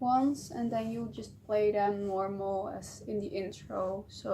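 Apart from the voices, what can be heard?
No everyday noises stand out.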